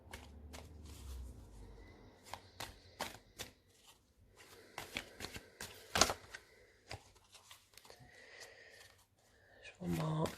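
Gilded Tarot cards being shuffled by hand, a run of quick, crisp riffling and slapping bursts at close range, fairly quiet, with soft breathing between.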